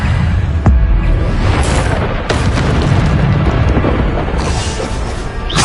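The Bombarda spell in Hogwarts Legacy sets off loud, booming explosions that overlap into a dense roar, with sharp blasts and rumbling impacts one after another.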